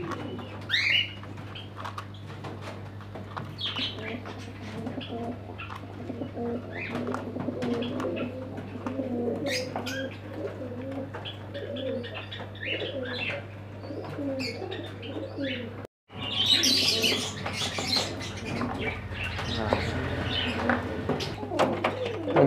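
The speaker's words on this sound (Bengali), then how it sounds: "এখানে আছে 2 পিস কাগজি পায়রা আছে।" Pigeons cooing softly in a bird and aquarium shop, repeated low coos and scattered chirps over a steady hum, with someone talking intermittently nearby.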